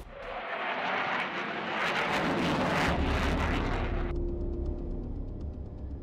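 Mirage fighter jets roar overhead in a loud, continuous rushing blast that builds and peaks mid-clip, then drops abruptly to a lower, rumbling tail.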